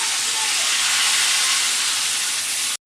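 Chicken pieces fry in hot oil with a loud, dense, continuous sizzling hiss close by, steady throughout before cutting off abruptly at the end.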